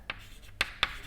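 Chalk or marker writing on a board during a physics lecture: three short, distinct scratchy strokes, close and fairly quiet, with no voice.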